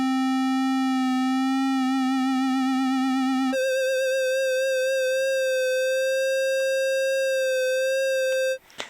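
A restored Polymoog synthesizer holding a buzzy tone with frequency modulation, its pitch wobbling in a fast vibrato, then jumping to a higher steadier note before cutting off abruptly, loud and close with no voices.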